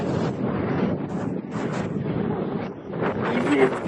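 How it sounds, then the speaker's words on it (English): Wind buffets the microphone at Trafalgar Beach in South Africa on an early morning, a low, uneven rumble of gusts that swells and fades without pause. "Even if it's windy."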